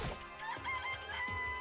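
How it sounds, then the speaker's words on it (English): Chickens in the Danganronpa video game give a short burst of clucks and squawky calls, close and fairly quiet, with no speech. "This place even has chickens, huh?"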